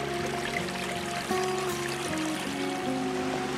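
A clear mountain stream flows steadily nearby on a forested hillside, a continuous rushing, trickling wash of water with no voices over it.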